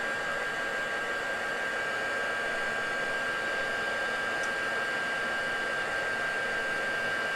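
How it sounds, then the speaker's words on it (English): A heat gun blows hot air over a painted craft piece, producing a steady, unbroken airy roar with a faint high whine, constant in level and with no talking. "So we need a heat gun, just to give this a quick zap."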